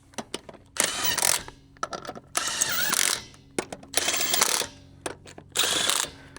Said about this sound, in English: we're just going to use the impact and we're going to go around one more time